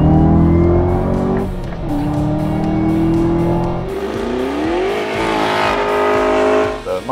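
A 2024 Chevrolet Camaro ZL1 Collector's Edition coupe with supercharged V8 on a track, loud close engine roar rising and falling through gear changes, with a tire squeal near the end.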